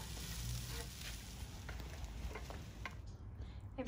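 Carrots and tomatoes stir-frying in a grill pan at a lamb barbecue, a steady low sizzle with soft crackles and light stirring scrapes, fairly faint and continuous throughout.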